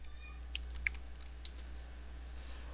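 A few light clicks of typing on a computer keyboard, quiet and sparse, over a steady low electrical hum with no speech.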